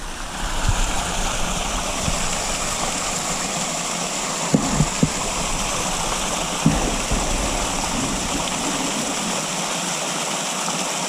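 Steady rushing of water flowing through a small tributary creek in southwest Colorado, a continuous close babble and splash with a few faint knocks, and no voices.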